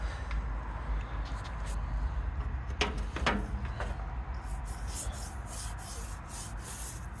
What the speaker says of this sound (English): Let me grab the scrub brush.